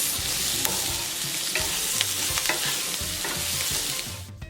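Chicken is stirred in a hot frying pan, giving a loud, dense sizzle close up with repeated scraping and clattering strokes of the utensil, and the frying dies down at the end.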